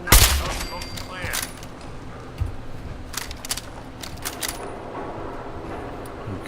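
Gunfire in Fallout 4 opens with a sharp, loud burst and then goes on as scattered lighter shots and clattering over a continuous low rumble of combat.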